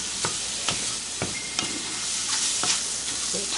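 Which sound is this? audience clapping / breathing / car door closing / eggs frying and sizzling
eggs frying and sizzling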